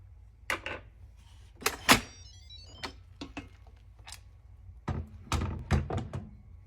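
A kitchen rice cooker's lid is opened, with a series of close plastic clicks and thunks scattered over a few seconds against a quiet background.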